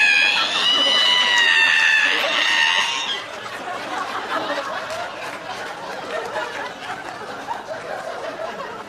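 A comedian's shrill, wavering vocal squeal imitating a creaky ironing board opening lasts about three seconds at a stand-up comedy show, then gives way to murmuring audience noise and chatter.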